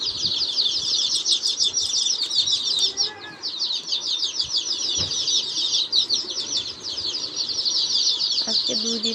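Two-day-old chicken chicks in a homemade brooder warmed by a single light peep constantly and close by, a dense, shrill chorus of overlapping chirps that runs without pause, with a few faint low knocks underneath.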